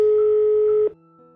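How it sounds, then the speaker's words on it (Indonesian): A steady electronic telephone tone sounds loud and close for under a second, then cuts to a quieter, lower tone pattern, as if a phone call is being placed. "Bentar aku telepon papi dulu."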